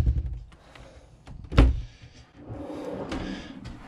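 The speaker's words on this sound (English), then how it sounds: "you can really feel the build quality when I open and close those" A carpeted pull-out pantry in a Newell coach motorhome closes with one solid, close thunk midway, followed by a low, soft rumble as it settles.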